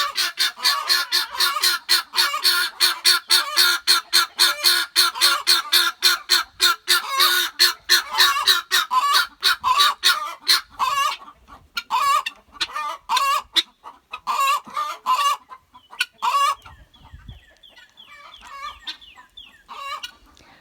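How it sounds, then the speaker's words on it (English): Guinea fowl calling loudly and frantically while being harassed, a dense run of harsh repeated cackles that thins into looser bursts of calls near the end. "This is what happens when the birds are being harassed."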